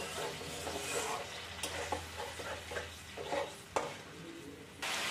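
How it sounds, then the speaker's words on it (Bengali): Water goes into a pan of fried spices for a Bengali-style fish egg pakora curry, making a soft, continuous sizzle with stirring scrapes and light clinks of utensils against the pan. "এবার জল দিয়ে দেবো।"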